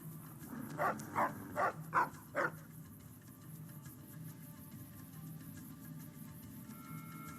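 A dog in a video game gives about five quick barks in a row, then goes quiet while a low ambient hum continues faintly.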